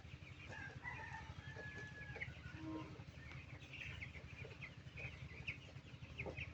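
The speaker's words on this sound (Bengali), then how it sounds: "তো দেখতে পাচ্ছেন খামারে আছি। আর এই দিকে মুরগি আছে কিছু।" Chickens on a poultry farm clucking and calling continuously, a dense flock chorus at moderate distance over a low steady hum, with no talk.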